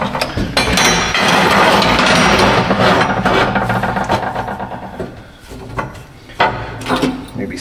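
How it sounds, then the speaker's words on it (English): Wooden basket ends for the front of a Yamaha Big Bear ATV being clamped together, with loud dense clattering and knocking of wood and metal clamps, busiest early then thinning into scattered sharp knocks. "I think at this point we can clamp one end of this together with some clamps."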